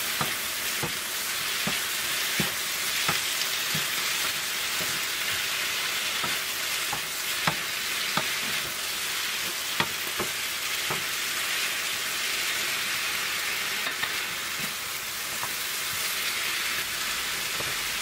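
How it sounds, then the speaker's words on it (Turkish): Spinach filling for börek sautéing in a pan, a continuous sizzle with repeated scrapes and clicks of stirring at a fairly even pace, close and unaccompanied by talk. "karıştırarak kavurmaya devam ediyorum"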